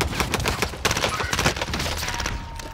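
Rapid, dense bursts of CX-9 submachine gun fire ring out in a Rebirth Island video game match, loud and close throughout.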